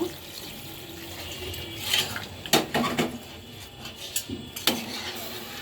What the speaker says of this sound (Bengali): এখন পরিমাণ মতো ঝোলের পানি দিয়ে দিব